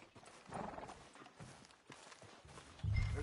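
Horse hooves clip-clopping at a walk in the Red Dead Redemption 2 video game, a steady rhythmic clatter with a louder low thump near the end.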